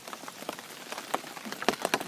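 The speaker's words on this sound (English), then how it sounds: "the first lot of rain we've had for a long while" Mild rain falls at a carp-fishing syndicate lake, with scattered close drops pattering sharply on a surface over a soft wash of rainfall. No voices are heard.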